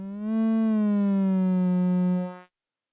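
A Strega synthesizer holds one sustained, buzzy, harmonically rich tone whose pitch drifts slightly lower as the fine tune knob turns, then cuts off abruptly into silence.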